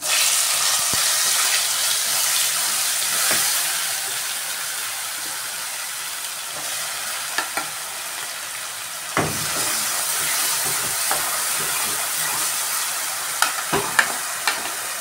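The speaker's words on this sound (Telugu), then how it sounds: "నూనె వేడెక్కింది, పేస్ట్ వేయాలి" A spice paste for chicken curry with wet coconut hits hot oil and sizzles loudly and steadily, with occasional scraping and clinking from stirring over a long stretch, and nobody talking.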